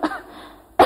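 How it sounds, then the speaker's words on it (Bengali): Two coughs from one person, a short cough at the start and a sharper one near the end, close and distinct with a quiet pause between. "কাশি হচ্ছে এখনো"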